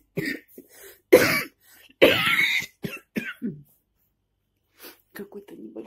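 A woman gives a few short, light coughs and clears her throat close by, a small morning cough, with brief speech between the bursts and some quiet pauses.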